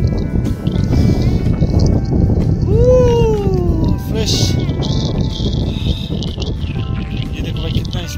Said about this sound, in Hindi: ये देखो भाई कितना स्पीड हवा चल रही है